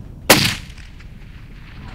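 A single loud rifle shot fired from long range at a fallow deer hind in open country, a sharp crack followed by a short decaying echo, with no talk.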